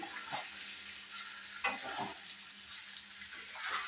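Sabudana and potato khichdi being stirred in a pan, with soft scraping strokes over a light sizzle and one sharper clink partway through, fairly quiet and close, with no one talking.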